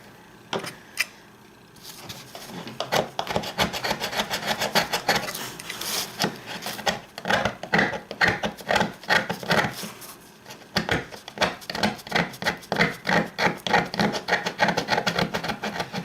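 Rasping, scraping strokes of a tool carving ridges into a medieval-style bridge for an HO scale model railroad layout, close and steady in short repeated bursts, with no one talking.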